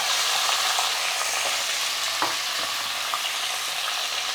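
A kilogram of mutton hits hot oil in a pressure cooker with bay leaves, black cardamom and cinnamon over a high flame, giving a steady, close sizzle with a few faint clinks and pops.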